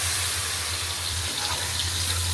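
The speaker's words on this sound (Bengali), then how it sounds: "পাতা দিয়ে একটু কষানোর পানি দিয়ে দিই। দিলাম একটু কষানোর জন্য পানি।" Water is poured into spiced curry in a pan for braising, a steady gushing splash that runs continuously and close before cutting off sharply at the end.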